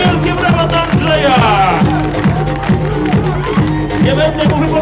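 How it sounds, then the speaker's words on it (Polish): A crowd cheers and applauds basketball captain Andrzej Pluta of Anwil Włocławek as he is introduced in an arena. The roar is loud and continuous over a steady, thumping music beat. "I wielkie brawa dla Andrzeja!"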